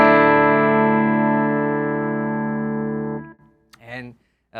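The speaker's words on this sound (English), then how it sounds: "So this is my clean tone. This is in the bridge humbucker right here." A clean electric guitar tone through the bridge humbucker with reverb: a single sustained chord rings out and slowly decays for about three seconds, then a voice briefly speaks.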